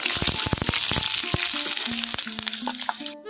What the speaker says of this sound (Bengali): এখন বাদামগুলো খুব ভালো করে ভাজা হয়ে গেছে, আর এখানে দেখো কয়েকটা কাঁচা লঙ্কা আমি এখানে অ্যাড করছি।